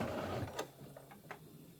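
An embroidery machine carriage shifting position while quilting a table runner block, a quiet brief mechanical whir with a few soft clicks and knocks, heard alone.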